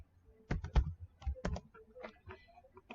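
Login details are typed on a computer keyboard in a few separate keystroke clusters, fairly close and moderately loud, with light clicks between them.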